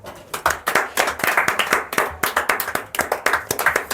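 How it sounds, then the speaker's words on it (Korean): A classroom group claps in brisk, uneven bursts of sharp hand claps, close and loud throughout, with a few faint voices underneath. "하경이 할 수 있도록 박수."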